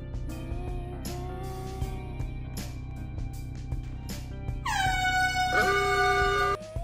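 A loud, sustained vehicle horn blares inside the Roblox Brookhaven game. It starts near the five-second mark, holds steady and ends abruptly, over game audio with background music.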